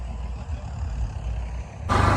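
A tractor engine idles on a flood embankment along the Ghaggar river, a steady low rumble throughout that grows louder and fuller in the final moments, with no talk.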